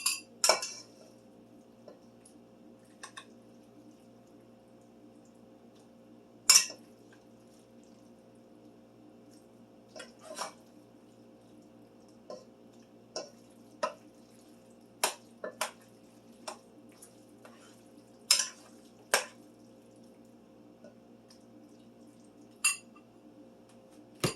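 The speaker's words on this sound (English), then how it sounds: "I'm going to put some in a bowl and we're going to try some" Dishes and cutlery clinking as homemade hamburger helper is served into a bowl: sparse, sharp metallic clinks and taps spaced irregularly over a quiet background, fairly close and otherwise still.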